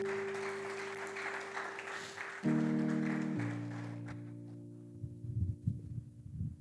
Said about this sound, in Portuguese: Dê uma salva de palmas para Jesus, por favor.